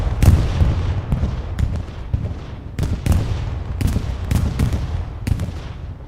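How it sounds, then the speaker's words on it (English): Bombing run in Hell Let Loose on Utah Beach: a rolling series of heavy explosions, roughly a dozen booming blasts at irregular intervals over a constant low rumble, loud and close. "Bombing run comes down."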